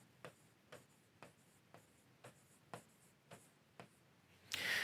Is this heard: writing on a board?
yes